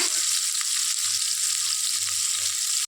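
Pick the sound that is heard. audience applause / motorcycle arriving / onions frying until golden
onions frying until golden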